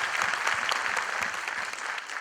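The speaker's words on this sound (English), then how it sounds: "Let's begin with the Mumbai prelims with a big round of applause" A crowd claps steadily, dense applause filling the room without pause, fairly loud and even throughout.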